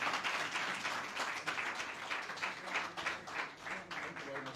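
An audience breaks into sustained applause after a speech on self-determination in Nigeria, a dense wash of clapping from many hands that swells and dips, with voices faintly underneath.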